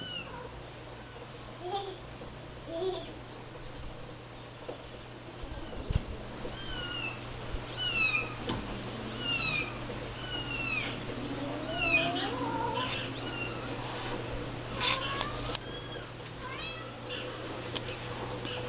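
Repeated high-pitched kitten meows, some overlapping, over low steady hum, with occasional soft bumps and rustles nearby.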